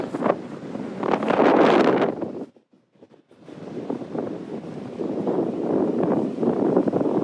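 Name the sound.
wind blowing at the beach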